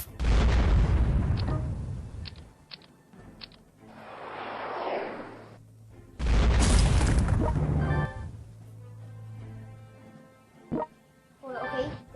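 Missile strikes in a World War II strategy video game erupt as loud booming blasts with long rumbling tails, two big impacts several seconds apart, followed by a few sharper pops, with speech in the clip.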